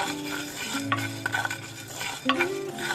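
Urad dal is dry-roasted in a pan and stirred with a spoon, giving repeated scraping and clinking strokes with a soft background sizzle, close and fairly quiet.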